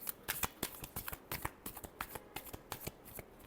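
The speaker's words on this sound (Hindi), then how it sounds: "Last shuffle." Tarot cards are shuffled in a quick run of crisp riffling snaps and flutters, close and fairly soft, with no voice over them.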